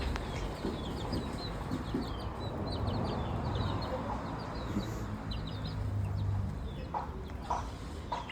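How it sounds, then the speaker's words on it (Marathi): Kadaknath chickens at a village farm cluck and chirp in scattered bursts against a steady outdoor hum, fairly quiet and at a moderate distance, with a few sharper calls near the end. "हा आमचा कडकनाथ"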